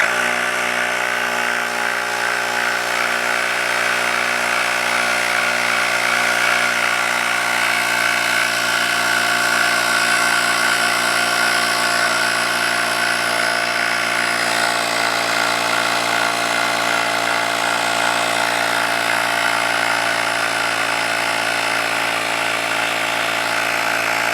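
Quikra portable tire inflator air compressor running while pumping a bike tire to 40 PSI, a steady, loud motorized buzz with a constant pitch held for the whole stretch, no voices.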